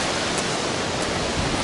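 A waterfall rushes close by in a constant broadband roar that stays steady and loud with no breaks.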